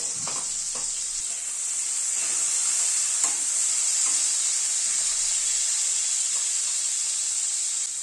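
Carrots frying in a pan for orange fried rice give a steady, close sizzle with a few soft scrapes of stirring near the start, and no voices.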